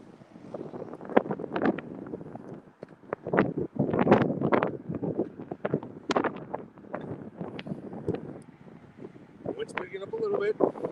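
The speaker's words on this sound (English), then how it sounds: "Wind's picking up a little bit." Strong wind buffeting a microphone during a walk along a roadside near Sugarloaf in the Florida Keys, gusty low rumbles and bursts that rise and fall irregularly, loud and close throughout.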